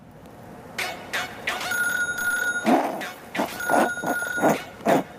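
A telephone rings in two bursts of electronic trilling tone, fairly close, with voices and room noise around it.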